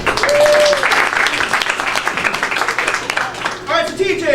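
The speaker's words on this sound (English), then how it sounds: "Big round of applause for Peter and Peter." A live comedy-improv audience applauds in a bar, dense clapping that starts strong, holds steady for a few seconds, then thins as a whistle and a voice cut through near the end.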